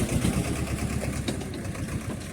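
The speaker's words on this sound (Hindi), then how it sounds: "चलो जी, यहाँ पर ट्रैक्टर ट्रॉली भी आ गई।" A tractor pulling a trolley rumbles nearby on farmland, its engine giving a steady, fairly loud chugging drone throughout.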